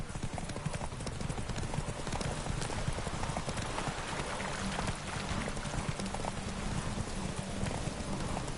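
Roach, Geralt's horse in The Witcher 3: Wild Hunt, gallops with steady, rapid clip-clop hoofbeats close by throughout, mixed with a rain-like hiss and a faint voice in the background.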